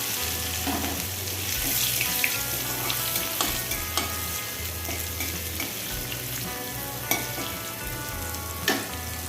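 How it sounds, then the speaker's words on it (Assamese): Dried chilies and crushed garlic fry in hot oil for a pumpkin-leaf fish curry, giving a steady close sizzle and crackle with scattered stirring clicks throughout, with no talk. "এতিয়া মই তেলত শুকান জলকীয়া লগতে নহৰু, খুন্দি থোৱা নহৰুখিনি দি দিছোঁ"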